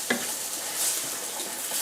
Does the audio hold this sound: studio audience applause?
no